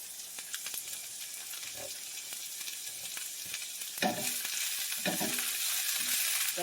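Bok choy leaves and pepper sizzling in a hot pan, a steady bright hiss with occasional stirring clatter and scrapes, the frying growing slightly louder near the end.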